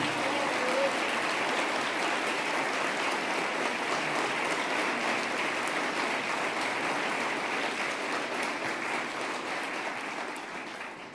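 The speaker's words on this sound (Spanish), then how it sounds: "quiero pedir un aplauso especial" An audience applauds at a political speech: a dense, steady roar of many hands clapping together that runs continuously for about eleven seconds and eases slightly toward the end.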